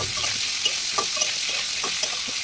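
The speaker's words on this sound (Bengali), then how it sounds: "সেই গরম কড়াইতে দিয়ে দেবো শুকনো লঙ্কা আর জিরে আর সেদ্ধ করে রাখা ফুলকপিটাকে খুব ভালো করে ভেজে নেব" Boiled cauliflower tossed with dry red chillies and cumin in a hot pan, heard as a bright, steady sizzle with several quick spatula scrapes and taps spread across the moment, close up and without speech.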